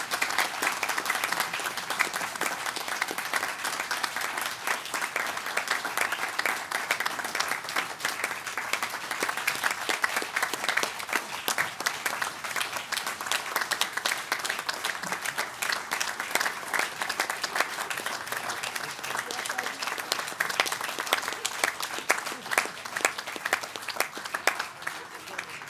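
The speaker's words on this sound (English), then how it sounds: "I'd like to have everyone give them a round of applause" An audience at a country club annual meeting gives a long, sustained round of applause, dense crowd clapping filling the room with a few voices audible underneath.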